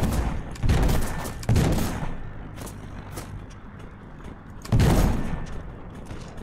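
Ship cannons in the video game Black Skylands fire in several loud, booming bursts, spaced a second or two apart, over faint background game noise.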